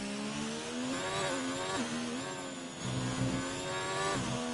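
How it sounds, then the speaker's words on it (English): A Formula 1 car engine in the video game F1 2019 roars at high revs, pitch climbing and dropping as gears shift, loud and continuous with no voices. "Just hear his car roaring"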